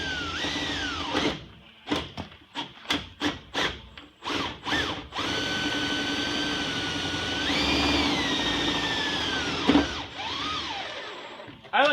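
A power drill drives Tek screws in a run of short whirring bursts, each spinning up and stopping, followed by longer steady whines with a pitch bend as a screw seats, close and loud.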